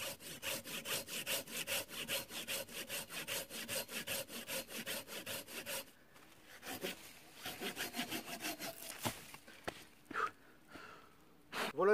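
A Silky folding hand saw rasps through wood in fast, even back-and-forth strokes, then pauses and resumes with slower, scattered strokes and a few breaths.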